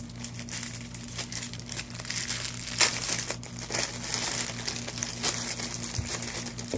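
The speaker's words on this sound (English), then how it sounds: "It actually has a couple of mounts in it. Let's go ahead and tear it open." A small plastic package of GoPro camera mounts is torn open by hand, giving close, continuous crinkling and crackling with one sharper rip partway through, over a low steady background hum.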